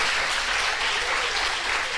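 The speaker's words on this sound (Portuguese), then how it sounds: "Vamos aplaudir o nome do Senhor." A church congregation applauding, a steady wash of many hands clapping at once, even and continuous throughout with no talk over it.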